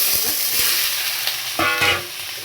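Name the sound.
vegetables sautéing in hot oil for sambar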